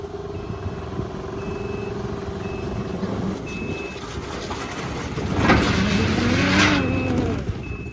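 A vehicle backs down off a four-place ramp trailer, its engine idling and revving under a steady, evenly spaced electronic reversing beep, growing louder near the end as it rolls off.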